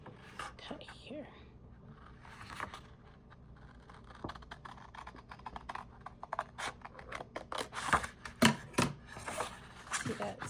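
Paper being cut with scissors for a junk journal folio, a run of crisp, close snips and clicks that grows busier and louder toward the end, with a few quiet voice sounds early on.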